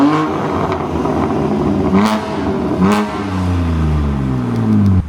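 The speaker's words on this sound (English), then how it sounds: "So if we get some revs now." A BMW G82 M4 with its exhaust valves open revs hard several times, engine pitch sweeping up and falling back between loud close-up blips, with sharp crackles at the peaks.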